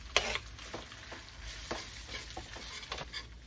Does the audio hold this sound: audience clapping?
no